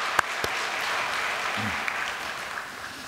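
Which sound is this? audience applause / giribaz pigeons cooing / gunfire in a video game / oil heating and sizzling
audience applause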